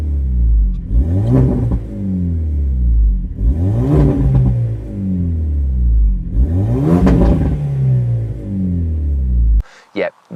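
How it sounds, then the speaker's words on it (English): A Renault Megane RS 300 Trophy with an active valved pop-and-bang exhaust revs three times in succession, each rising rev sweeping up then falling back with crackle, loud and close, before a short burst of noise at the end. "you can put the pop and bang exhaust active as well with the valve"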